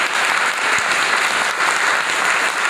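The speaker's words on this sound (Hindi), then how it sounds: "तो ताली तो बनती ही बनती है" Steady, dense applause from a seated audience at a sales training meeting, loud and continuous for the whole stretch with no voices rising above it.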